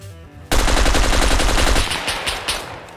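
Sustained automatic gunfire in the SCUM survival video game, loud and close, a rapid rattling stream of shots that breaks off into a few scattered bursts and echoes.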